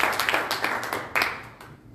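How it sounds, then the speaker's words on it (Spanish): A church congregation claps for God during a Spanish-language service, producing a brief burst of rhythmic, fairly close hand clapping with uneven pulses that fades slightly toward the end. "Dale un aplauso a Dios, ponte de pie esta mañana."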